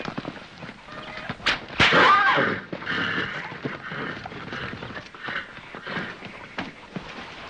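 A horse's hooves clip-clop in an Old West setting, a loud close burst of movement early on, then steady trampling continuing under background noise.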